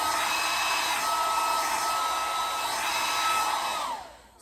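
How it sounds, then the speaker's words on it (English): A blow dryer runs steadily at close range, drying styled baby hairs at the edges of a frontal wig install after a hold spray, with a constant broadband whoosh that cuts off near the end. "dried it a little bit with the blow dryer"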